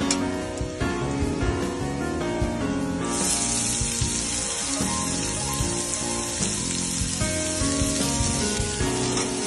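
Finely chopped onion frying with browned garlic in a pan makes a dense, continuous, close sizzle, busy and crackling like rain, for the whole stretch with no talking.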